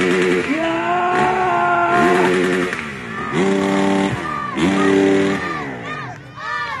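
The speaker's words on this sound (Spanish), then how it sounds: "¡Ruja los motores!" Freestyle motocross motorcycles rev at an outdoor FMX show in Cielo Punco, their engine noise buried under a cheering crowd and loud, rhythmic shouting from an announcer.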